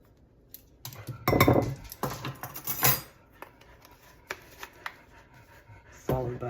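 A metal tablespoon clinks and scrapes against a spice jar and dish while chili powder is measured out, with several close, sharp clatters and rattles.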